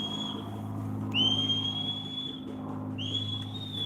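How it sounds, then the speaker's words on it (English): A person whistles a few sustained high notes, sliding upward into each, over a steady low hum in the background. "you doing a lot of whistling, man"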